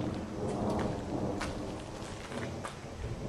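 Steady rain falls with a low rumble of thunder rolling beneath it, a continuous stormy wash with no voices.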